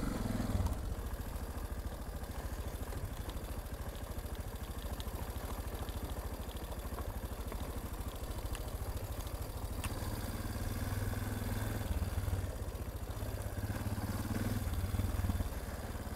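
Warm motorcycle engine idling steadily after starting, a faint, continuous low rumble with light mechanical clatter and no talk.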